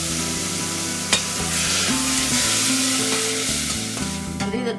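Half a tomato frying in a pan for an Indian-style pasta, a loud, steady sizzle up close with a brief stirring clack near the start.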